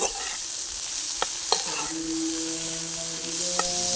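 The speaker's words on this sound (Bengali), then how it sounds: "একটু লবণ দিয়ে দিলাম আর একটু হলুদের গুঁড়া দিয়ে নাড়াতে থাকবো" Vegetables frying in a pan with salt and turmeric are stirred steadily, a soft sizzle running throughout with a few sharp scrapes of the spoon against the pan.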